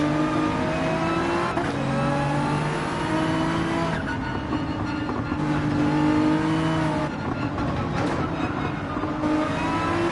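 A Porsche 911 race car engine in Gran Turismo 7 revs and accelerates through shifts, its loud steady drone rising and falling in pitch over ten seconds, with brief tire noise.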